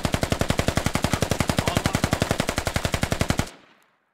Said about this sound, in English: Just a mag dump from an AR there.